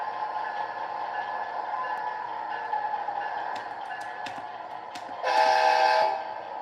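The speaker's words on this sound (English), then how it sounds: "we'll pull the Amtrak right into that straight right there." An Amtrak model train rolls along layout track with a steady, soft mechanical whir, rising into a brighter, louder rush near the end, with faint clicks along the way.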